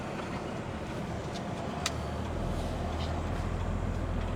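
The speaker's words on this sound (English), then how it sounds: "We'll wait for the truck to go past" A truck rolls by on a road, its low engine rumble swelling and holding steady through the second half, fairly close and alone without talk.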